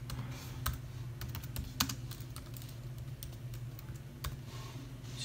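Keys clatter on the built-in keyboard of a 13-inch early 2015 Mac laptop, light irregular taps over a low steady hum, close and fairly quiet with no talking.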